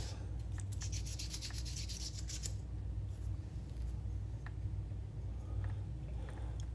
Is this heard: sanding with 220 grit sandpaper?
yes